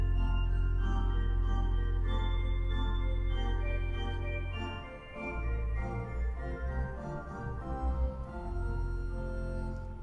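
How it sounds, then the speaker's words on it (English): Church chancel pipe organ in Washington DC sounding its 8-foot and 2-foot flute stops together, bright sustained chords that thin briefly midway and then return with moving lines, played alone without speech. "So the 8 and 2 foot flute sound like this."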